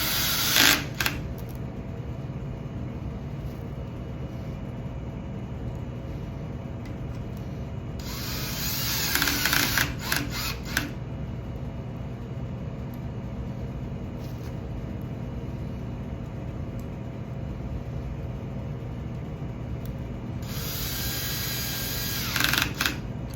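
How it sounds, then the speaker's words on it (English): Power driver running screws into the cover plate of a high resolution passive profiler, several short high buzzing bursts separated by quieter stretches of room noise. "we could go ahead and put our screws in for this plate as well."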